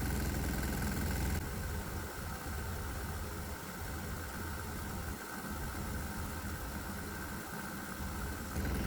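A diesel engine fed propane with methanol vaporizers runs at a steady idle, a continuous close-up rumble with a faint knock and slight dips in the drone.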